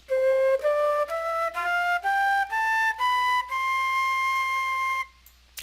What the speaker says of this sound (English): Maybe a flute